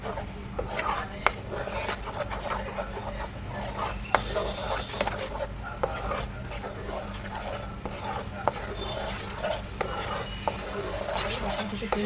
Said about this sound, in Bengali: আবারও ভালো করে ফ্রাই করে নেব